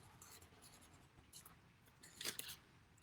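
A pen drawing windows on a craft safari vehicle made from recycled items, faint soft scratching strokes close by, quiet and intermittent.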